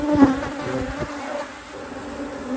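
A close, steady hum of a healthy honey bee colony buzzing during hive work, with a few louder passes near the start before settling into a continuous drone.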